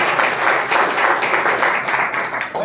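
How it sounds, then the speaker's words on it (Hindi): Congregation clapping together at a Hindi church service, a steady, dense burst of applause filling the room throughout, loud and close, with no talk over it. "ताली बजा के"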